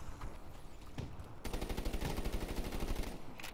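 Gunfire in a first-person shooter video game: a few scattered shots, then a rapid, sustained burst of automatic fire rattling on for about two seconds at moderate distance.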